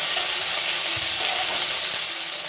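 Chopped onion and green chillies sizzle in hot oil in a wok, a loud steady frying hiss that holds throughout with no talking.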